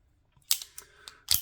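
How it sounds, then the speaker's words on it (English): A Polish P-64 pistol is cleared with a few sharp, close metallic clicks and clacks spaced apart, in an otherwise quiet room. "We'll go ahead and make the weapon clear."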